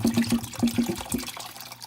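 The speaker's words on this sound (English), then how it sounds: "So I'm just filling it up with warm tap water" Warm tap water pours into a flower pot base, splashing in quick, close pulses of running liquid that taper off after about a second.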